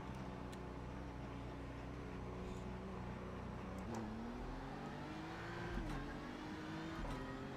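A BMW GT3 race car engine in iRacing at Le Mans drones steadily throughout, its pitch climbing and dipping as it shifts and revs, with no talking.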